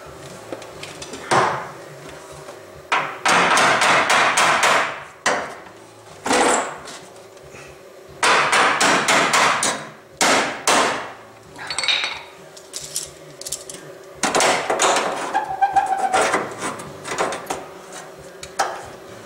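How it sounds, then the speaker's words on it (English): Repeated loud knocks and bangs of hard impacts in irregular bursts, close by, with clattering between strikes and no voices. "Hammer."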